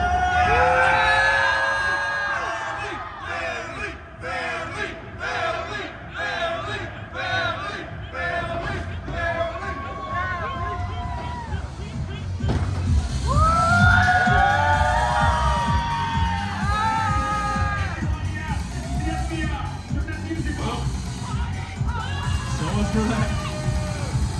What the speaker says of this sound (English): Never mind, massive party. Blend in with the crowd, blend in, blend in.